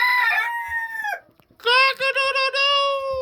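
A rooster crows twice up close, loud drawn-out calls separated by a short pause, the second crow longer and broken into stuttering pulses toward its end.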